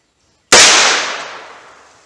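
A single sharp gunshot from Hornady Critical Defense .38 Special 90 grain standard-pressure ammunition fired through a 4-inch barrel, close and loud, with a long decaying echo tail afterward.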